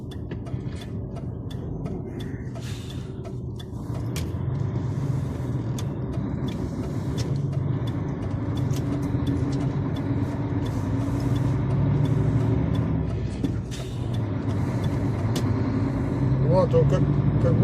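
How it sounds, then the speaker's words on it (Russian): A grey DAF truck engine misfiring and stuttering under load while driving on the road, with a rough, continuous low drone inside the cab and occasional clunks, and voices talking over it. "Вот он как будто троит в нагрузку и все,"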